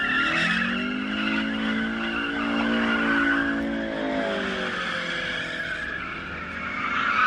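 A car spins its rear tyres at a customs checkpoint, its loud, sustained tyre squeal wavering in pitch over a revving engine for several seconds, close by and without speech.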